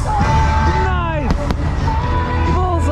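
Fireworks over Walt Disney World in Orlando, Florida, pop and crackle with a couple of sharp bangs, heard beneath a loud, steady bed of music and crowd noise.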